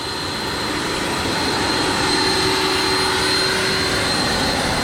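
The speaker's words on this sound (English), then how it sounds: "You hear the EDF is way lower now." A high, steady whine of the electric ducted fan on an MD 600N RC helicopter, turned down lower, hums continuously, mixed with broad rushing air noise, fairly close and unbroken.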